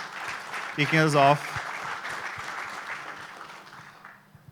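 An audience at an industry leaders' event applauds a moderator, steady moderate clapping that slowly fades, with a voice speaking briefly over it near the start.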